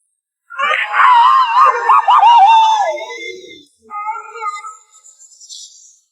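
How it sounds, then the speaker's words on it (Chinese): Tom the cat's classic cartoon scream from Tom and Jerry, a loud, wavering howl that rises and falls for about three seconds, followed by a shorter, fainter trailing wail. "今天就带各位回顾下汤姆最经典的10大鬼哭狼嚎"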